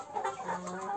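Young chickens, both cockerels and hens, cluck softly in a coop. The short, close murmuring calls overlap, with no speech.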